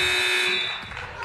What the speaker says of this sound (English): Vergara, last second buzzer beater again